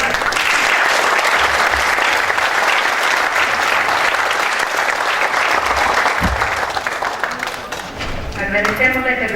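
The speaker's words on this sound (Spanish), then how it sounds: "Lo recibamos con un fuerte aplauso." Sustained loud applause from a conference audience fills the room, steady clapping that tapers off near the end as a voice begins speaking.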